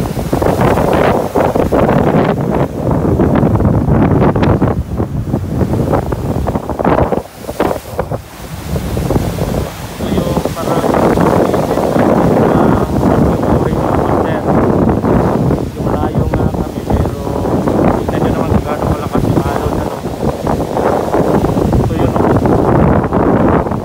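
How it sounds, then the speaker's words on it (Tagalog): Typhoon Auring drives strong wind and heavy sea waves: a loud, continuous roar of gusts buffeting the microphone over crashing surf, with only a brief lull partway through. "Nakakatakot mga master, ang lakas ng alon."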